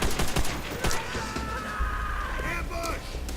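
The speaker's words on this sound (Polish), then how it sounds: "ktoś we mnie strzela" Gunfire from the Call of Duty World at War video game, with several sharp shots cracking in quick succession early on while a voice talks over the game sounds.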